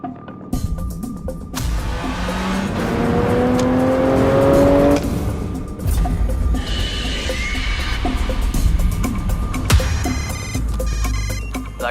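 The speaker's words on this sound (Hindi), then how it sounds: "गाड़ी पहुंच रही है।" A car arrives in a dramatic film scene, its engine swelling and rumbling loudly under ringing tones and background music, with no voices.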